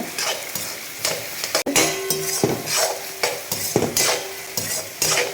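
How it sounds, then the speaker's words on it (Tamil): Ginger sautéing in coconut oil for an Onam ginger-tamarind pachadi, with a steady close sizzle and repeated spoon scrapes and stirring strokes against the pan. "இன்னும் கொஞ்சம் கூட வதங்கட்டும்."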